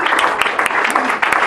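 A comedy-bar audience claps steadily for a comedian, the dense, loud applause filling the short moment with a few sharper claps standing out.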